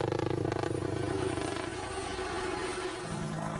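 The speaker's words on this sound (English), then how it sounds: "it cuts down the normal chop, chop, chop sound from a helicopter into a more discreet whir" A five-blade helicopter rotor whir, steady and fairly loud, with a fast rhythmic pulsing at first that smooths into a continuous drone.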